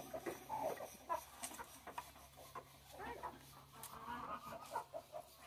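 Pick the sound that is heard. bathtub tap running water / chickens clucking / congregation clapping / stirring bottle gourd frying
chickens clucking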